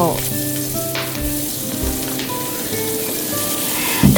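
Batter-dipped shrimp deep-frying in hot oil give a loud, close, steady sizzle like heavy rain, with soft bubbling and a brief clatter right at the end.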